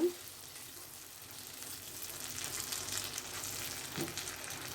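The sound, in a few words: stirring spicy pasta ingredients with tomato sauce in a pan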